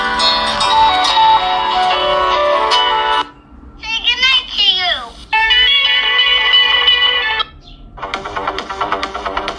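Ringtone melody played through the speaker of a Motorola G22 smartphone, a bright synthetic tune with several distinct phrases and short pauses, loud and close with no talking.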